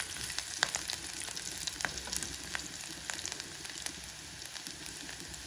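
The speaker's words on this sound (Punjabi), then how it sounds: "ਹਰੀ ਮਿਰਚਾਂ ਨੂੰ ਤਾਂ ਅਦਰਕ ਨਾਲ ਹੀ ਪੱਤੇ ਫਰਾਈ ਹੋ ਜਾਣਗੇ" Green chillies, ginger and leaves fry in a pan for a pakora kadhi, making a fairly quiet, steady sizzle with frequent small crackles and pops and an occasional stir, with no voices.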